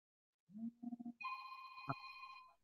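Phone ringing close by with a sustained electronic ring tone that starts after a short bit of speech and holds steady for over a second, sharp and fairly loud in an otherwise quiet room.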